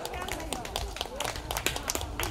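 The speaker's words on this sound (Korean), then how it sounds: "여러분 큰 박수 부탁드리겠습니다." An audience claps to welcome the singer Nanhee onto the stage at an outdoor mountain-temple concert at Daeseongsa in Pohang. The scattered, fairly faint claps sit under an announcer's talk.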